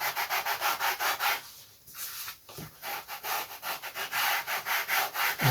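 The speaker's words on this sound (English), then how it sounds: "I'm going to just sand this edge, use that as a block. Just going to sand and get the corners out the way." A sanding block rubs back and forth along the edge of a pre-WW1-style RC aircraft model, quick rasping strokes repeating in a steady rhythm, close and fairly quiet, with a brief pause partway through.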